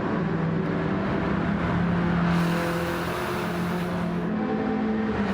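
Touring race cars, including a Camaro and a Golf, drafting nose-to-tail down a straight, their engines holding a steady loud drone with sustained tonal whine throughout.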